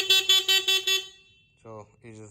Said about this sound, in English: it just honked